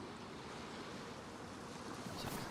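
Water waves in the DayZ survival game on the Namalsk map, a steady broadband wash of surf with wind-like rush, fairly loud and continuous with no talk.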